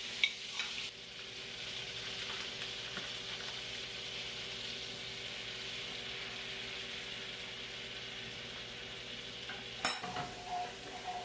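Garlic sizzling in plenty of butter in a pan makes a steady, close frying hiss that runs the whole time, with a brief clatter near the start and another near the end.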